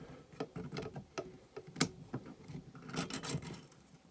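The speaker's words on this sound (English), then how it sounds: "You need to depress this cap here and turn your barrel bushing" Small metallic clicks and scraping of a Colt 1911 pistol's barrel bushing being turned during disassembly, close and quiet, a loose series of taps and rasps with a sharper click midway and a brief cluster near the end.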